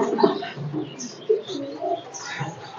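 Pigeons, a khaki female and a Tipu male, coo softly in low repeated murmurs at close range, with a few faint chirps around them and no talking.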